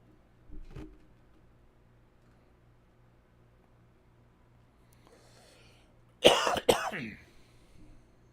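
A faint cough, then after a quiet stretch a loud bout of coughing and throat clearing close to the microphone.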